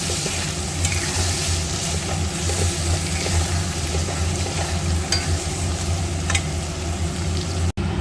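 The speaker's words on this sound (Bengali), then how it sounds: "ভালো করে আমি মশলাটাকে কিন্তু কষিয়ে নেব এখানে" Spice masala for mutton do pyaza frying in a pan, a continuous dense sizzle with low bubbling underneath and faint stirring scrapes, steady and close throughout, with a brief dropout near the end; no talking.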